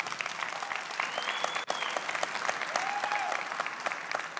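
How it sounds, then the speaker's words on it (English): An audience applauds steadily and close by, the clapping dense and sustained throughout with a faint whistle-like tone rising over it. "One applause."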